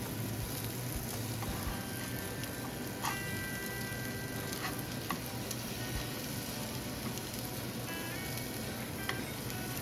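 Elk pan sausage patties frying in a pan, a dense, steady, close sizzle lasting the whole time with a few faint clicks, no talking.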